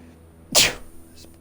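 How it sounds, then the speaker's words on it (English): A single loud, close sneeze bursts out abruptly and ends quickly, followed by near quiet with a faint trailing breath. "Sorry about sneezing."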